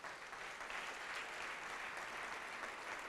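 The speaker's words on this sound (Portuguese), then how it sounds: "Vamos aplaudir mais ao nome de Jesus." A church congregation applauding during a sermon, steady broadband clapping with a quiet, somewhat distant quality, continuous and unbroken with no voices on top.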